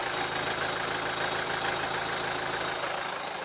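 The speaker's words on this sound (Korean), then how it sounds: "엔진 소음 먼저 들려드리면은" A Hyundai Maxcruz with a 2.2-litre R diesel engine idles with the hood open, giving a steady, even clatter and hum close by. There are no voices and no change in revs.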